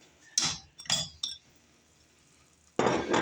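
Chopped carrots go into a pan of cooking celery: a few sharp clinks of utensil on dish, a pause, then a dense rattling burst as the pieces land close by.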